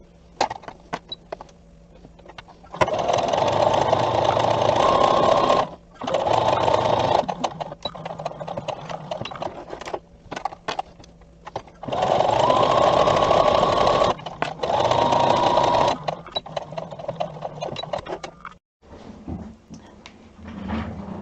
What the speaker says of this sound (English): we're just going to top stitch those angled corners of our pocket down